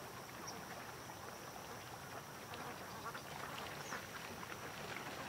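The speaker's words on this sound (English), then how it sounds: "These ducks just don't want to be home." Ducks quacking outdoors in the rain, a few scattered quacks at a moderate distance under a steady hiss of rainfall, with no voices.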